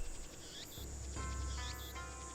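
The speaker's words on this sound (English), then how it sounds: "Damn cicadas won't shut up" Cicadas shrill in a hot late-afternoon scene of the visual novel game Steins;Gate, a loud, buzzing insect drone with repeated pulsing chirps that rise and fall over a steady background.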